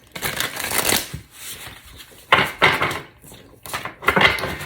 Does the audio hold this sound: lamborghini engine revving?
no